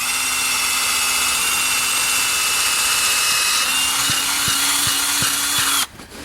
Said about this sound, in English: in the frozen ground, this drill just makes things so much easier and quicker.